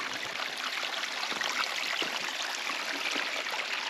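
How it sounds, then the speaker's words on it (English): Steady rushing and trickling of a stream, continuous and fairly close, with small splashes scattered through the flow and no voices. "I just love the sound of running water as well"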